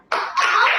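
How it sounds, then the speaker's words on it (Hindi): Children in a school audience clap and laugh at a Hindi play, a sudden dense burst of close applause and giggling that starts abruptly and holds steady for under a second. "पीछे से बच्चों की ताली बजाने की और हंसने की भी आवाज आ रही थी"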